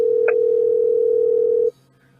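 A steady telephone dial tone hums loudly while a call is placed, holding for about a second and a half before cutting off abruptly into near silence.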